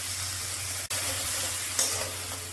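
Spice masala with salt and turmeric sizzles steadily in a pan as water is added, a soft continuous fry with a brief dip and a louder hiss burst near the end.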